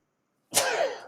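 A single sneeze bursts out abruptly after silence, close and fairly loud, a sharp explosive onset trailing into a brief breathy tail with no talk around it.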